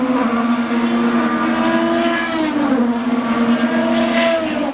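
Indy race cars driving on a race track, a loud sustained high-pitched engine whine that holds steady and shifts slightly in pitch as the cars pass.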